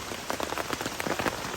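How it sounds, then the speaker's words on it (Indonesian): Heavy rain falls on a mountain campsite on Gunung Slamet, a dense steady patter of drops striking a surface close by, with no voices. "Ini nanti masaknya gimana kalau hujan kayak gini?"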